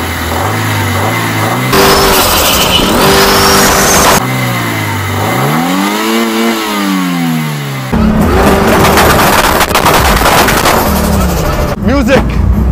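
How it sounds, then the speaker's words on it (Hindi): Honda Civic VTi Oriel engine revving close by, with loud, repeated climbs and drops in pitch as the throttle is blipped, running steadily for about twelve seconds with no talking. "तो व्यूअर्स, इस इंजन की आवाज आपको सुनाना चाहूँ।"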